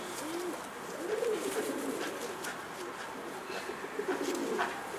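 Pigeons of the Mardin breed coo in soft, repeated rolling phrases, several bursts spread across the stretch, fairly close against a steady background hum with no talk.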